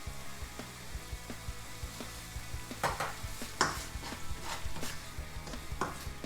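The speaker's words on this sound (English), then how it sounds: "Now this curry paste is now just cooking through in the milk." Curry paste cooking in coconut milk in a pan for a Thai-inspired chicken dish, a steady low sizzle and bubble with occasional spoon stirs and scrapes against the pan, close and fairly quiet, with no voices.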